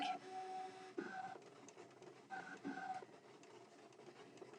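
A Brother ScanNCut DX85 electronic craft cutting machine whirs and buzzes in short stop-start passes on a second, deeper cut, with faint clicks between strokes, fairly quiet and close.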